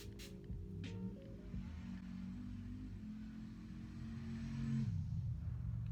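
A truck rumbles past outside a room, a low steady engine drone that swells toward the end, faint and distant with no talking over it.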